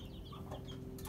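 Three-week-old chicks clucking and peeping: a short run of soft, high chirps over a steady low background hum.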